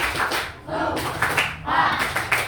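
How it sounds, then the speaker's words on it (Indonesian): Class students doing a tepuk salut clapping chant, a run of rhythmic hand claps in patterned bursts, close and fairly loud in a classroom, with voices chanting along between claps. "kita kasih tepuk salut dulu yuk buat temennya yang udah berani"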